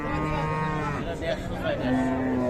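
A cow moos at a busy cattle market at Raniganj haat in Dinajpur, its long, loud lowing call filling the moment with steady crowd noise behind it.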